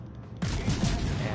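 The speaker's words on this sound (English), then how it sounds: "here is a Jervis that doesn't know I'm here, and I'm gonna shoot at it" Ship guns in World of Warships: Legends open fire on a Jervis destroyer, a sudden loud naval salvo bursting in after a quieter moment and rumbling on with heavy low booms.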